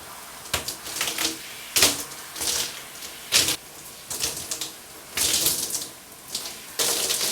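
Running water from a tap splashes in uneven bursts while hair product is rinsed out of hair, gushes starting and stopping repeatedly, close and fairly soft.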